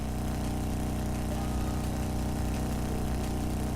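A motorcycle engine idles steadily in the Trails of Cold Steel video game, a low, even rumble that holds without a break throughout.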